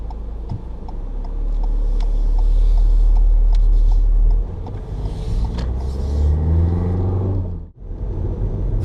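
A car slows on approach to a junction, its engine and road rumble droning close and steady inside the cabin, fading lower as it brakes to a near stop, with faint ticking of an indicator throughout.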